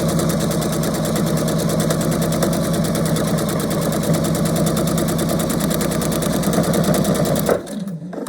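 A sewing machine stitches quilt pieces for a scrappy foundation-paper-pieced heart block, running in a fast, steady mechanical whir with rapid needle clatter, close and loud, then stopping abruptly near the end.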